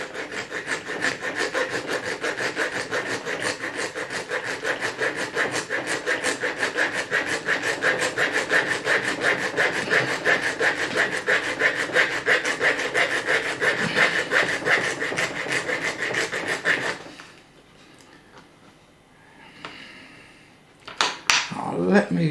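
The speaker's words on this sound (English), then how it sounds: "we're beginning to sort of grind it away with a file" Hand file rasping away at a broken bonnet lock on a Ford C-Max, a steady fast run of close, gritty back-and-forth strokes for about seventeen seconds before it stops and a few faint clicks follow.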